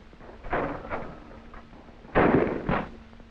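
Two shotgun blasts ring out at an outdoor military skeet range, each a sharp boom trailed by a rolling echo, about two seconds apart.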